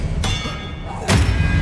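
Expelliarmus disarming spell impacts in the Hogwarts Legacy video game, heard as two solid thuds, a sharp one early and a louder, heavier hit about a second later, over a low game backdrop.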